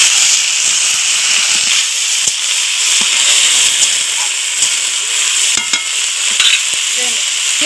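Vegetables frying in a pan with chopped onion, green chilli and dried fish, a loud constant sizzle with repeated scraping and stirring strokes throughout, close up and no talk.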